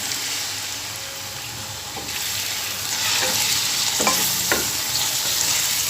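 Chicken going into onions frying in hot oil for a Chinese-style chicken biryani, a steady close sizzle that swells as the meat lands, with a few scraping stirs of the spoon near the end.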